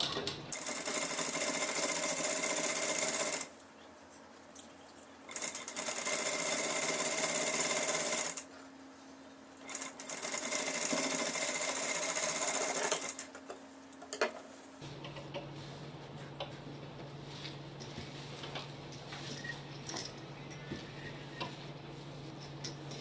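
A sewing machine stitching the lining of a suit runs in steady rapid bursts with short pauses between, then gives way to quieter handling and low hum; no talking.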